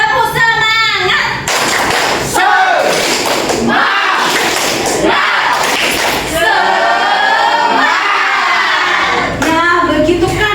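A primary school class claps in bursts with loud rhythmic chanting voices, the claps and shouts alternating in a lively pattern.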